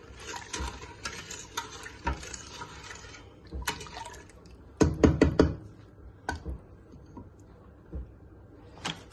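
A sugar mixture stirred in a pot, spoon scraping and knocking against the sides in uneven strokes, with a brief cluster of louder clacks midway and quieter stirring afterward, no voices.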